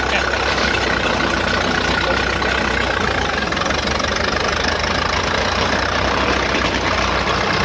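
A 1913 Buick antique race car engine running loud and close during a ride at Myrtle Beach, a dense rough rumble with a knocking, rattling texture that holds steady throughout, with voices mixed into the roar.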